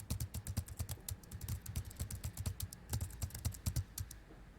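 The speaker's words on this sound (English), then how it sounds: "Bear began typing again, this time on his computer." Rapid, steady keystrokes on a computer keyboard, dozens of close, crisp clicks in an even typing rhythm with no voices.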